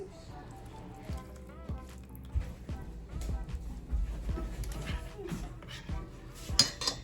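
Crushed Biscoff cookies are mixed with melted butter in a bowl, giving soft, irregular clinks and scrapes of a utensil against the dish, fairly quiet and close.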